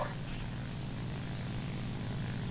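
Steady, continuous propeller engine drone of a dive-bomber aircraft in the War Thunder video game, loud and unchanging throughout with no speech.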